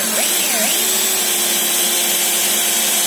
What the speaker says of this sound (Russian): Сверлю сейчас отверстие вот в краю